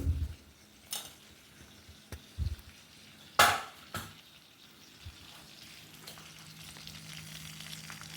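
Fenugreek seeds and spices sizzle in hot tempering oil for an amla pickle, a soft continuous hiss broken by a few sharp clinks and knocks of a spoon against the pan, close and without speech.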